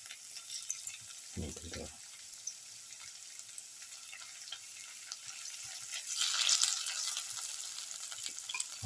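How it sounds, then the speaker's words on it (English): Okra pieces frying in hot oil for a chickpea stir fry, a steady broadband sizzle running throughout with a louder low thump near the start and a brighter surge of sizzling toward the end; a voice speaks briefly. "Let it fry."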